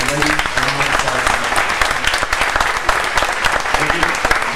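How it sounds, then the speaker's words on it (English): Dense audience applause at a Kenda cruise event rolls on throughout, loud and close, with voices and a few tonal sounds mixed into the clapping. "give these gentlemen and ladies a round of applause"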